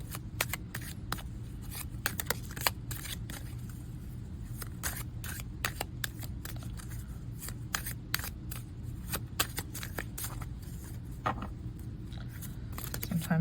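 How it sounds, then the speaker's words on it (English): A brand-new, shiny and slippery deck of oracle cards is shuffled, producing rapid crisp riffling flicks and card snaps in quick irregular bursts, close and clear, with no voice over it. "Sometimes with a new deck, you have to figure out how it wants to be shuffled."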